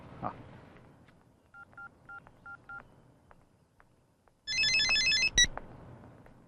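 Telephone dialing tones, a quick run of short keypad beeps followed by a burst of rapid electronic ringing tones, fairly faint and alone in a quiet room.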